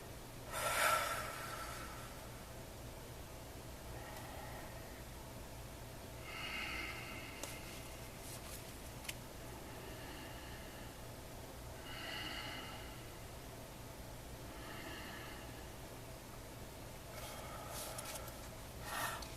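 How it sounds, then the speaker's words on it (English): Slow, calm breathing, a run of soft breaths and quiet exhales repeating every couple of seconds, close and faint over a low steady hiss. "do a little breathing that helps settle me in"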